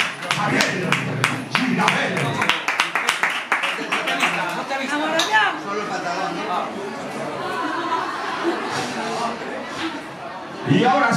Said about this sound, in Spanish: Aquí lo tienen, fortísimo aplauso para el catalán, para el barcelonés, Javier Girabel.